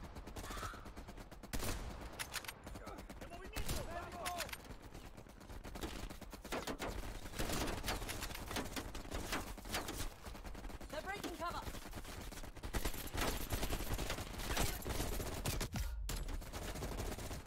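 Gunfire from an AK rifle in the shooter game Black Ops Cold War crackles in dense, rapid bursts with scattered single shots, loud and sustained throughout, mixed with game effects and no talking.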